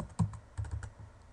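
A few quick keystrokes on a computer keyboard sound close and faint as a username is typed in, in short irregular taps.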